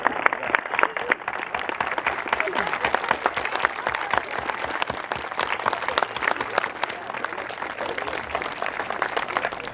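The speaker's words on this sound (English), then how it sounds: "Let's give them a big round of applause." A graduation crowd applauding teachers and staff, a loud, continuous roar of many hands clapping with sharp individual claps standing out, sustained evenly for nearly ten seconds.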